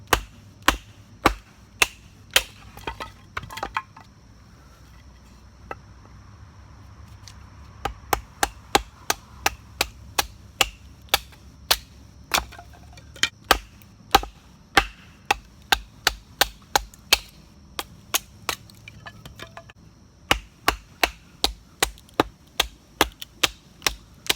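A Kizer Little River Bowie compact fixed-blade knife chops into wood, giving dozens of sharp, loud percussive strikes in irregular bursts with short pauses and no talking.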